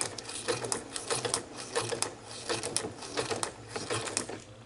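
A sewing machine stitches a junk journal embellishment, a fast, steady mechanical chatter with rhythmic needle clicks, close and moderately quiet, with no talking.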